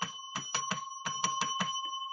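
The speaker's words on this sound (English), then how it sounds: "we got to ring the bell first" A small bell is rung repeatedly in quick bursts, two groups of sharp metallic rings with a clear sustained tone between strikes, close and moderately loud.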